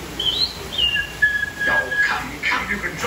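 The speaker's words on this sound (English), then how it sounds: "Suddenly, the treetops explode in a frenzy of outraged birds." Animatronic birds in Disney's Enchanted Tiki Room show at Walt Disney World's Magic Kingdom burst into agitated calls, with rising whistles, chirps and squawks layered over one another, loud and close inside the theater.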